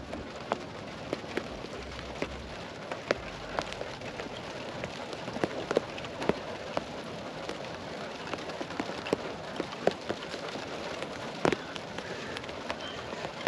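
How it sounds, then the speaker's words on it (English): Rain falling outdoors during a car suspension install, a steady soft patter with scattered sharper drops hitting nearby surfaces, fairly quiet and continuous with no talking. "Calming, soothing sounds of rain."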